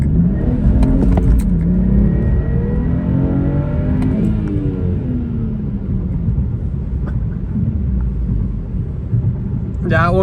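2013 BMW 335i with new parts and ECU tune launching from a clutch dump and accelerating hard, a loud close engine roar climbing steadily in pitch through the run, with a short shift dip midway.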